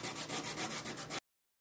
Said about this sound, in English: I'm going to go ahead and finish buffing this.